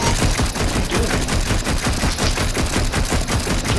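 Rapid, steady automatic gunfire glitches in a video game, a dense continuous burst of shots at an even rapid rhythm, loud and unbroken for several seconds.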